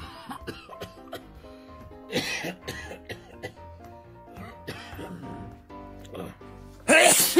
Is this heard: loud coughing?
yes